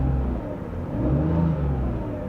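A Mercedes C32 engine runs steadily at idle, a smooth low rumble with a slight rise in revs midway, close by and without voices.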